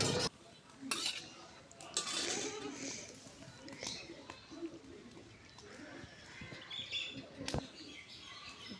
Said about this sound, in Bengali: লবণ দিয়ে দিলাম, দিয়ে এখন ফেটে নিব।